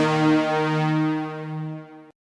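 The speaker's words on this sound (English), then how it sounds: "And so far, the finished sound sounds like this." A Juno synthesizer stab patch with chorus and long reverb plays one bright, sustained harmonic chord that swells slightly, then decays and cuts off after about two seconds.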